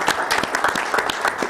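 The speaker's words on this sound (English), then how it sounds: "I think we owe them a nice round of applause for that stuff" A short round of applause breaks out at a county budget hearing, a roomful of people clapping in dense, steady bursts close by.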